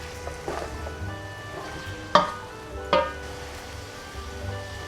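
Beef for nihari frying in a pot, a steady low sizzle with two sharper spits and pops standing out midway, fairly quiet and close, with no talking.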